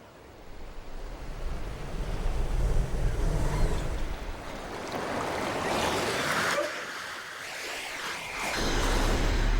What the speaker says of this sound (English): It appears that Surge is being washed away by the waves.